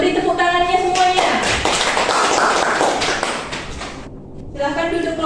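A classroom of students claps for a group that has just finished presenting in a biology teaching session, brisk bursts of hand claps mixed with classroom chatter and a voice speaking over the start and end.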